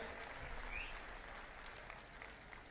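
Distant, faint applause from a large crowd at a political rally, a steady hiss of clapping with no clear individual claps.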